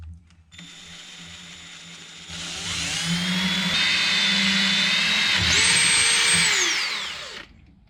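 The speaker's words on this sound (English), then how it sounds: "I'm gonna go ahead and pilot drill this" A Harbor Freight Warrior bit pilot-drilling through aluminum for a fan shroud and battery tray install, a close, steady power-drill whine that rises in pitch and load mid-way and shifts higher again before spinning down.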